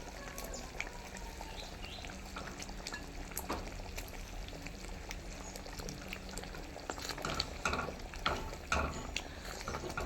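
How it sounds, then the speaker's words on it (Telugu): Eggs being stirred into a simmering masala gravy in a pan, soft bubbling and sizzling with intermittent scraping and clinking of a spoon against the pan, fairly quiet and close, no talk. "అలా ఎగ్స్ యాడ్ చేసుకున్నాక చక్కగా కలుపుకున్నాం."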